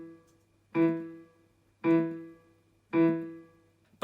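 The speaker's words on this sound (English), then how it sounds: "if I just play the left hand, it sounds like this." Three evenly spaced piano notes from the left hand of Tchaikovsky's Dance of the Sugar Plum Fairy, each struck cleanly and left to ring and decay before the next, alone with no talking.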